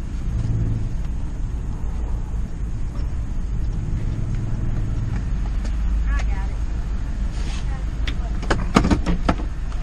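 A sheriff's patrol car drives past, a steady low engine and tire rumble rising and fading over about ten seconds along a road, with some sharp clicks and knocks near the end.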